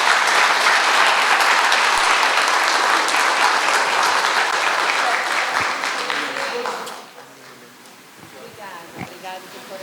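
A church congregation bursts into loud, sustained applause that fills the room for about seven seconds, then fades to scattered claps and murmuring voices.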